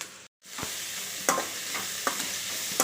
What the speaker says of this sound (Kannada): ಹಾಗಲಕಾಯಿನ ಹಾಕೊಳ್ಳೋಣ ಚೆನ್ನಾಗಿ ಮಿಕ್ಸ್ ಮಾಡೋಣ